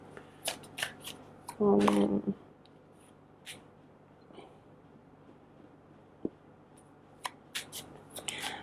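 Tarot cards shuffled by hand for a single-card draw, a short dense riffling burst near the middle, with quiet handling taps and faint room noise around it and no speech.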